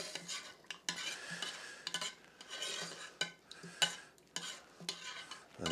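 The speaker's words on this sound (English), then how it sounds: "a tablespoon of garlic salt. And let's start stirring this up." Steak marinade with a tablespoon of garlic salt and butter being stirred for retro ribeyes, with a busy run of close scraping, clinking utensil strokes against a bowl and no talk.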